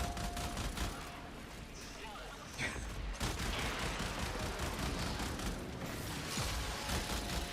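Dense, continuous gunfire and mechanical weapon clatter in the video game Warframe, rapid repeated shots close up with a brief lull near the middle, voices talking faintly underneath.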